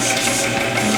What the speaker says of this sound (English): then sewing on her sewing machine